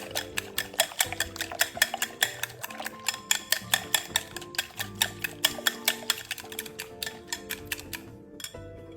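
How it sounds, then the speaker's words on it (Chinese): Eggs are beaten briskly with a utensil in a bowl, a steady rapid run of crisp clicking taps close up, even in rhythm and continuing throughout, with no talking. "接着将蛋液打散。"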